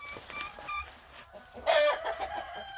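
Chickens on a homestead cluck in short bursts, with a louder squawk midway, close by and without talk.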